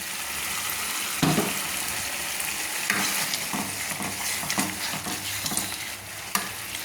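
Rohu fish in poppy seed paste simmers and sizzles in a pan after a little water goes in, with close stirring scrapes and soft bubbling throughout.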